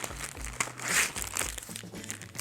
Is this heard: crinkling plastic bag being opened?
yes